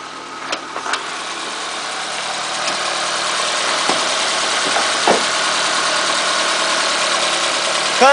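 A Nissan Serena's twin-cam 16-valve 2.0-litre engine idles steadily, giving a continuous even hum with a broad hiss and no voices.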